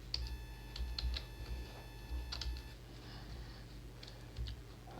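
Quick, light clicks of someone typing code on a computer keyboard, close and quiet, in short bursts with brief pauses between them against a low background hum.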